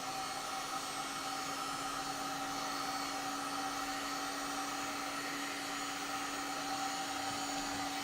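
Heat gun warming foam pieces before gluing them down for Warhammer 40k Iron Warriors models, a steady droning blower whine with a constant tone, loud and unbroken, with no voices.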